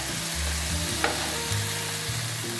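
Vegetables for egg fried rice sizzle and crackle steadily in a hot pan while being stirred, a close, loud frying hiss with a spatula scrape or two and a low steady hum beneath, no voices.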